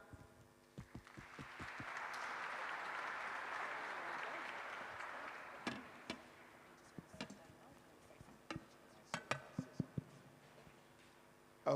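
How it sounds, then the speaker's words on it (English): An audience at an energy conference breaks into applause that swells and fades, followed by scattered individual claps and thumps, fairly faint and distant. "Join me in giving them a round of applause"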